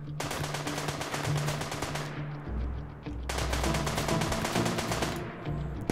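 Rapid machine-gun bursts during a raid in the video game RimWorld: two long strings of sharp, evenly spaced shots separated by a short lull, loud and close with no talking.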